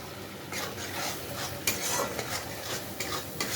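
Spice paste with green peas and whole chillies is stirred in a wok, a soft sizzle with scraping stirs and a few light utensil knocks.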